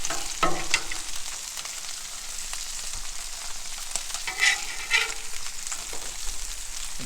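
Potatoes sizzle steadily on a Blackstone griddle while a spatula scrapes and flips them, with several short metallic scrapes over the continuous frying hiss.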